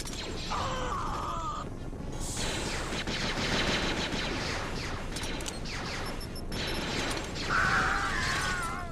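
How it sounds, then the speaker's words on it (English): Full-automatic E11 blaster fire from the Jedi Outcast video game, a dense continuous stream of rapid mechanical bursts and crashing impacts with game effects over several seconds, loud and unbroken. "The typical E11 goes from firing one sporadic semi-automatic blaster bolt into a spray and pray full automatic mode in its alternate fire configuration"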